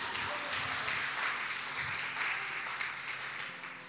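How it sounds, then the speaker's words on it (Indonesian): Church congregation applauding after a sermon, a dense steady wash of clapping from many hands that carries through the whole stretch and tapers slightly at the end. "Kalau tepuk tangan sekali lagi tolong jangan ragu-ragu."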